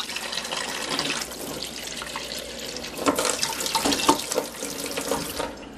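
A kitchen tap runs steadily into a sink while dishes are washed, a continuous hiss of flowing water with splashes and a few clinks of dishware, close by.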